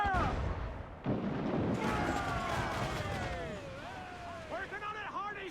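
Ship cannons firing in a naval battle in Assassin's Creed IV: Black Flag, heavy booming blasts with rumbling aftermath amid battle noise, while crew voices shout over the action.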